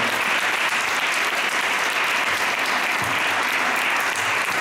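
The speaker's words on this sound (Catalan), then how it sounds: "No aplaudim el Miquel Galceran" An audience at the 37th Terrassa jazz festival in Catalonia claps for a band member, a dense, loud, continuous round of applause that fills the whole stretch with no break.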